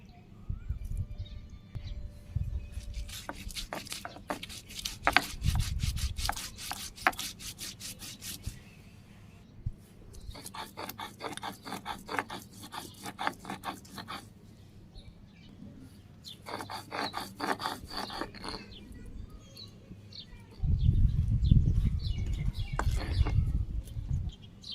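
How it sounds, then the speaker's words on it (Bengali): Green chilies and raw cumin are ground on a grinding stone, making repeated rough rubbing strokes in several bursts of rhythmic back-and-forth scraping, close and moderately loud, with faint birdsong and low rumbling in the background. "এবার প্রথমে আমি কাঁচামরিচ আর কয়েকটা কাঁচা জিরে বেটে নেব।"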